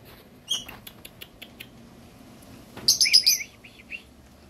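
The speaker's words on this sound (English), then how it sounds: "So those are the parakeets." Pet parakeets kept alongside a small green parrot chirp in short, high, scattered tweets, then break into a louder burst of rapid chattering calls nearby, with quiet soft tapping between.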